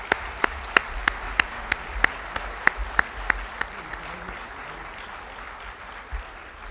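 A small group claps for art and essay award winners at a school ceremony. Sharp individual claps ring out over a soft crowd wash, then taper off into quiet murmuring.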